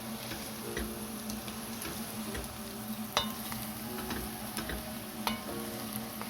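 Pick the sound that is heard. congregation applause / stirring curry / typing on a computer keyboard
stirring curry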